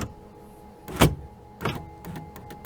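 A Chevrolet Silverado power window motor raises the window during a regulator replacement, giving a short whir near the one-second mark and a second burst around 1.6 s, followed by faint clicks in a quiet garage.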